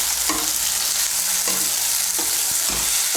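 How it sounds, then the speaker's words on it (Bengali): Chopped tomato is stirred into hot oil in a pan, giving a steady bright sizzle with a few scraping stir strokes, close and continuous, with no talking. "টমেটো কুচিটাকে তেলের সঙ্গে মিশিয়ে নেব।"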